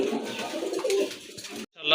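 A pair of pigeons coos in short, soft calls over a steady hum of other birds, with a brief dropout near the end followed by a higher warbling call.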